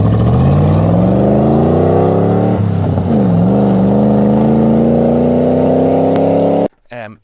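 A Land Rover Series vehicle fitted with a V8 engine revs hard and close, its pitch sagging then climbing again in sustained throttle blips before cutting off abruptly near the end.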